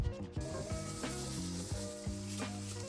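Onions, peppers and mushrooms for black bean burgers sizzle in a pan with a quiet, continuous frying hiss and occasional soft stirring. A faint melodic tone runs underneath.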